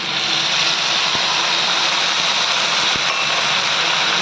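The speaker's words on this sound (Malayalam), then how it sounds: "കുറച്ച് വെള്ളം ഒഴിച്ച് കൊടുക്കാം." Water poured into a pan of frying tomatoes gives a loud, continuous rushing hiss, with a few faint clicks of utensils against the pan, close by and steady throughout.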